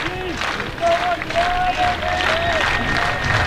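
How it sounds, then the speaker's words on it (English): A crowd at a summer-league baseball game between the Corvallis Knights and Victoria HarbourCats cheers and claps steadily throughout, loud and continuous, with an announcer talking over the noise. "Crowd getting into it."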